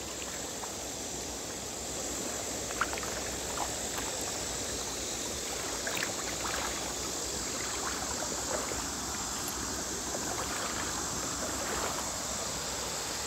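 A small creek at a covered bridge near Paris, Missouri flows steadily, a soft continuous babble and trickle of water with no voices, heard at moderate distance.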